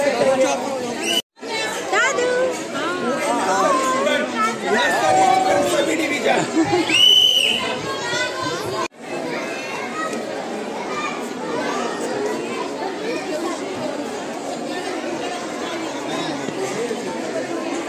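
A packed municipal sports-complex stadium at Rajiv Gandhi Stadium, Belapur, fills with a dense, loud babble of children and adults chattering during sports day, continuous apart from two brief dropouts.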